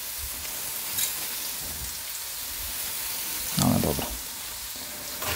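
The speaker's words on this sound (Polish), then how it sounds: "kroimy cebulkę, trochę ją podsmażymy" Onions frying in a pan, a soft steady sizzle close by with a brief louder crackle midway, while someone speaks briefly.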